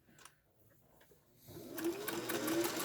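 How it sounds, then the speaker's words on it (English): A sewing machine stitches a fabric mask, starting quietly and building into a steady, fast whir of needle strokes that runs continuously near the end, close and fairly loud. "lower my presser foot, pull it again so I don't have it puckering"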